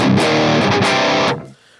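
Distorted electric guitar through an Axe-FX II amp model with the bright switch off, a loud, dense burst of chugging rhythm chords that cuts off abruptly and rings briefly into silence.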